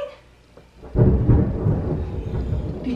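A sudden low rumble of thunder breaks in after a quiet moment and rolls on loudly to the end.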